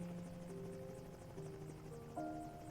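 Helicopter engine in a flight simulator game, an Mi helicopter producing a steady droning whine with tonal hum and a rhythmic rotor pulse, continuous and fairly quiet.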